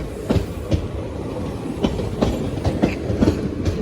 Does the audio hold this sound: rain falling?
no